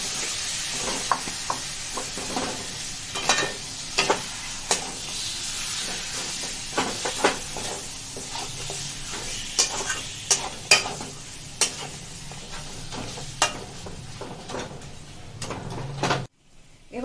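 Mutton sizzles and fries in a hot pan with onion and chilli paste for Rajasthani laal maas while a utensil stirs it with repeated scraping clicks, ending with a short clatter.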